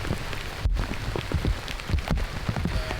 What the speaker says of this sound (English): As the rain's starting to pick up, it seems like you don't want to be scrambling in the rain.